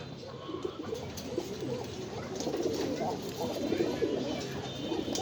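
Pigeons at a pigeon farm coo steadily, several birds overlapping in a soft continuous murmur that swells slightly toward the end, with faint chatter in the background.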